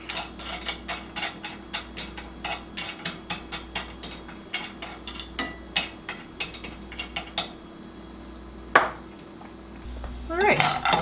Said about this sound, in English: we are just going to put our walnuts in a pan and toast them for about 5 to 7 minutes